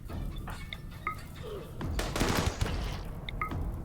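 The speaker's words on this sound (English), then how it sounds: "Here goes some of the frag nades." Frag grenades exploding in Mysteries of a Dead Planet, a burst of rumbling blasts in the middle among scattered gunfire pops and small metallic chimes.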